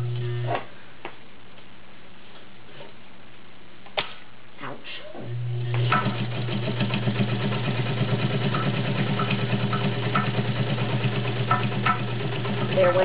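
A vintage Kenmore 1204 zigzag sewing machine stitches through folded denim seams with a size 16 needle. A steady mechanical whir starts after a brief pause and runs continuously up close, with no talk.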